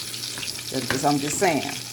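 Fish frying in hot oil gives a steady crackling sizzle, with a voice talking briefly over it midway through.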